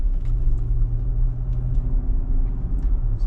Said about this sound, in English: we'll hit some bumps and you can hear how it does over crappy roads